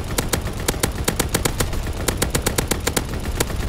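Rapid automatic gunfire fills a Call of Duty WW2 match on PC, with loud, close bursts firing in a steady fast rhythm throughout, interrupted only briefly.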